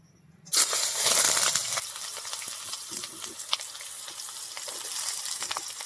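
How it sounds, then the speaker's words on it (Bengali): Eggplant pieces frying in hot oil in a wok, a loud sizzle bursting in after a brief quiet start and then settling into steady crackling with a few sharp pops. "তেল দিয়ে আমি প্রথমে বেগুনগুলোকে ভেজে নেব"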